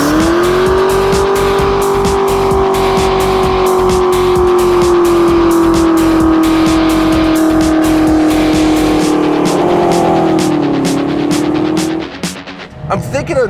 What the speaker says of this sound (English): And it does burnout.